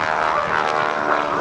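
A 3,000-pound aerobatic propeller airplane powered by a 220-horsepower engine performs at the 2008 NAS Oceana airshow, its loud, steady droning buzz with a harmonic whine holding throughout the brief moment, with no voices over it.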